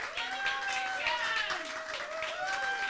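A crowd applauds at the end of a live songwriter showcase, a scattered patter of clapping that stays fairly quiet and runs beneath sustained musical tones and a voice.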